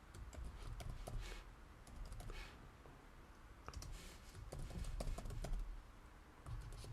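Rapid clicking keystrokes on a computer keyboard, close and steady with brief pauses, entering text in an editing program, with no talk.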